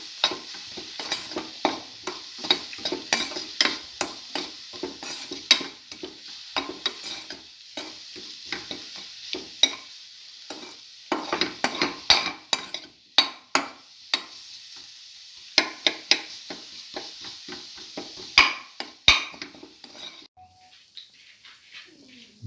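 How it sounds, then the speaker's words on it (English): Egg mixture being stirred in a frying pan for a cinnamon coconut scrambled egg stir fry, with a steady run of close scraping and clicking strokes over a soft sizzle, fading near the end. "Mix thoroughly. Keep on mixing."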